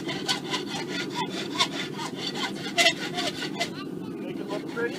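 A farrier's rasp files the edges of a horseshoe clamped in a vise, a steady run of close, loud rhythmic scraping strokes that continues under background murmur.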